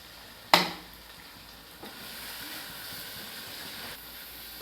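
Fried whole okra tipped into chicken in a pan, a sharp clatter and burst of hiss at the start, then a steady soft sizzle and steaming hiss with a faint stir partway through.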